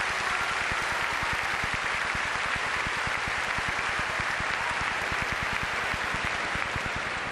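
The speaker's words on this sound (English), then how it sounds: "I'd like a round of applause for all of those that have helped make this possible" A packed audience at a 1996 high school graduation ceremony claps steadily, a dense even stream of applause at moderate volume with no voices over it.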